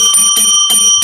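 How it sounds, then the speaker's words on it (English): A small hand bell rung in a few quick bursts, bright ringing tones with shimmering overtones sounding loud and close, each shake separated by brief pauses. "Maybe they'll come if I ring this bell."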